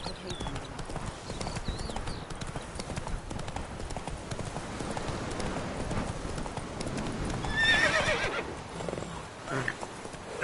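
Roach the horse's hooves clip-clop steadily along a road in The Witcher 3, with an occasional whinny and background game ambience, and a voice speaks over the hoofbeats.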